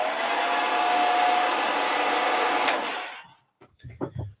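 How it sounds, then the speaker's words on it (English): A hair dryer blows close up on a small pre-assembled painted plastic miniature. Its loud, steady whooshing roar lasts about three seconds and then cuts off, leaving brief faint handling noises. "Just a quick blast to the hairdryer."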